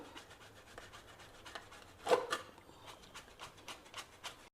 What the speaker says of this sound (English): Here I have boiled and peeled 3 potatoes. So first we will grate them.